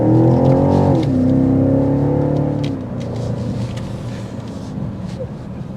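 BMW X6 M50i with a 523-horsepower twin-turbo V8 under way, a loud, deep engine drone that rises in pitch and then settles back to a lower rumble, with faint talk underneath.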